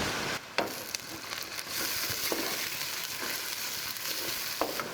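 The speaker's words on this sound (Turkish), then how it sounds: "Orta ateşte yavaş yavaş kavuracağız." Rice sautéing over medium heat in a pot with onions gives a continuous sizzle and crackle, with a few sharp stirring scrapes and clinks scattered through it, close and fairly quiet.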